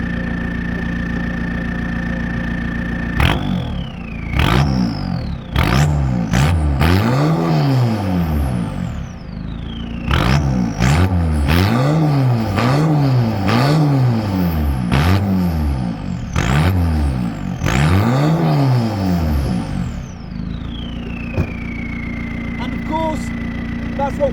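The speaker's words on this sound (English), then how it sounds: "So let's give her a bloody rev." A Peugeot 306 sedan with a D-turbo diesel engine idling, then blipped through a string of sharp revs that rise and fall in repeated bursts before settling back to a steady idle, loud and close.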